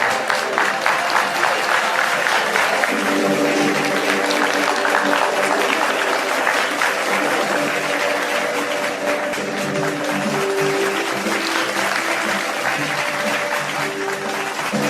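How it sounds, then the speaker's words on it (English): Sustained audience applause at an alumni meet as names are announced, dense even clapping for the whole stretch, with faint voices and music-like tones underneath. "Give them a big round of applause."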